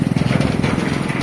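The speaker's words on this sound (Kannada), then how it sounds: "ಇನ್ನೊಂದು ಬೈಕ್ ಗಾಯ್ಸ್." A motorbike engine thrums past on a bridge, loud and close, with a rapid, even pulsing throb lasting about a second.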